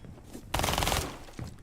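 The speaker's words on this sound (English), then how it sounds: "and there's the wall bang from Toxic" Wall-bang gunfire in a competitive tactical shooter match, a loud burst of rapid automatic shots lasting about half a second, followed by one quieter shot a moment later.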